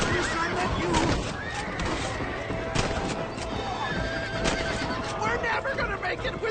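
A horse in the video game Red Dead Redemption whinnies among galloping hooves and background game sounds, with spoken dialogue over them.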